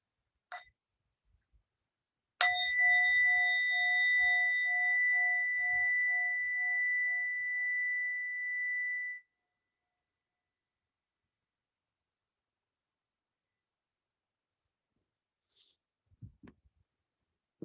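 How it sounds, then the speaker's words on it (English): A meditation bell is struck once at the close of a session, ringing with a clear, steady tone that sustains for several seconds before cutting off into silence, followed by faint rustling. "with the sound of the bell, we'll bring this meditation to a close"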